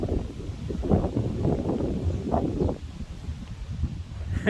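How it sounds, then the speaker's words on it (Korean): Strong wind gusts across an open farm field during sweet potato and carrot planting, a loud steady rush with buffeting bursts on the microphone that swell and ease throughout. "시뿌레기에는 바람이 너무 많이 붑니다"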